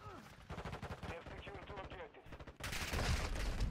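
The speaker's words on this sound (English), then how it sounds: "You can fire this gun quick." Rapid video game gunfire from Modern Warfare 2 bursts in loud and dense near the end, following a stretch of busy game sounds and voices.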